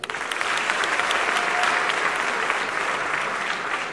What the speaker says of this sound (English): I'm going to clap for her.